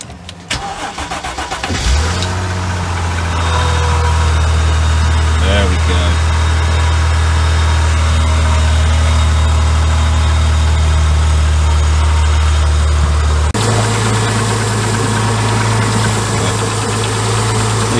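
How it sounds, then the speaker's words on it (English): An MG ZS 180 car engine cranks briefly after a jump start, catches, and settles into a loud, steady close-up idle with a low droning hum that shifts partway through. "So we're going to try and start it, try and jump it"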